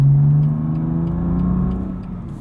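A 2020 BMW M2 Competition's engine pulls under acceleration on an ordinary road, a close, steady mid-pitched drone that eases slightly toward the end, with no talking.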